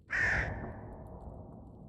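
A single harsh raven caw rings out loud and close, then trails off into a long reverberant decay with no other sounds around it.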